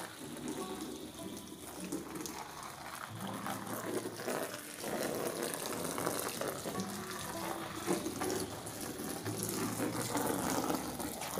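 Water pours steadily into an Intex Easy Set above-ground pool as it fills, a continuous rushing and splashing that grows slightly louder over time, with no talking.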